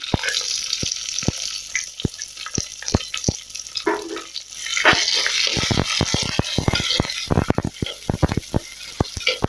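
Onions frying in a clay pot while fish curry is cooked, with a steady sizzle and a run of sharp crackles and pops. No one talks.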